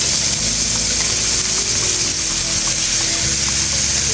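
Steak searing in a hot pan gives a constant, close sizzle and crackle with a faint underlying hum, steady throughout with no voices.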